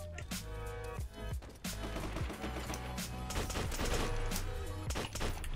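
Rapid gunfire from Call of Duty, dense bursts of automatic shots and crashes filling the whole stretch loudly.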